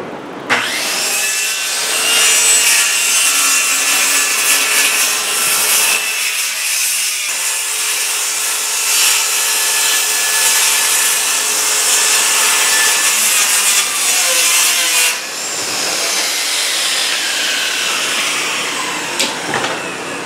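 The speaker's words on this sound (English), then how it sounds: "Have to rip this down, so we'll do that on the table saw here in a bit." A table saw rips a board lengthwise for a heated dog house build, its loud steady whine and cutting rasp filling the space close by for most of the run, easing off near the end.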